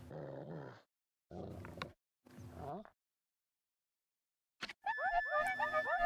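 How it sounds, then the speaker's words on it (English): A dog whimpers and cries in the video game Okami, a run of high, wavering whines arriving near the end after several bursts of in-game voice chatter and a silent gap. "Is that doggy crying somewhere, sis?"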